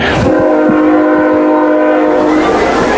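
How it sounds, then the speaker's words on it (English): A train horn sounds loud and sustained for nearly three seconds as a train passes through Webster on a Friday night, with the rumble of the rail cars underneath. "7:30 train coming through Webster here on your Friday night."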